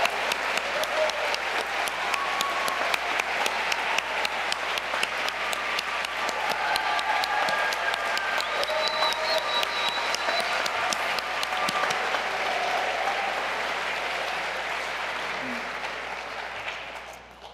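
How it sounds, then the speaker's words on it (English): Congregation applauding during a worship service, steady dense clapping from a sizable crowd in a sanctuary, holding for most of the stretch before tapering off near the end, with no speech over it. "could you raise your hand so we can give you some applause?"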